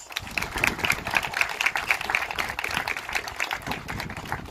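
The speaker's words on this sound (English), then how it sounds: "So I think they also deserve a round of applause." Wedding ceremony guests applaud in a steady, moderately loud patter of many hands clapping, continuing evenly before easing slightly.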